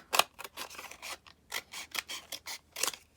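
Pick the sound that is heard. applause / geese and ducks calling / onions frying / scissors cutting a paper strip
scissors cutting a paper strip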